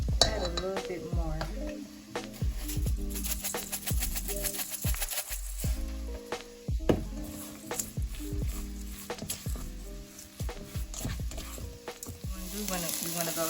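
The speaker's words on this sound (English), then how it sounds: "And then we're gonna mix it all in." Philly cheesesteak filling being stirred in a hot pan, loud continuous sizzling with repeated scraping and clattering strokes of the utensil against the pan, steady throughout.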